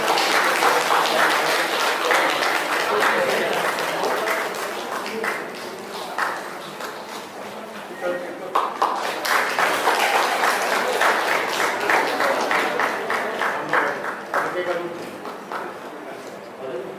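Audience at a memorial ceremony in Dehradun for a martyred flight lieutenant claps in a sustained round of applause, moderately loud and continuous with a short dip partway through.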